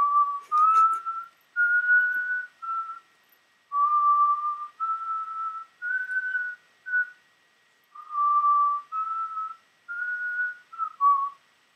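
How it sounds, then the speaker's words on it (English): A person whistles a tune alone, a clear melodic line of sustained notes broken into short phrases with brief pauses, close and steady in volume. "We have to whistle a song."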